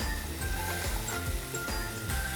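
Continuous sizzling of red onions frying in olive oil in a pan, with occasional clinks and scraping of a utensil, close up and without talking.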